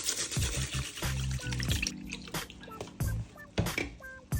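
A litre carton of Alpro unsweetened almond milk is poured into a slow cooker over pudding rice, heard up close as a faint splashing trickle broken by drips and glugs.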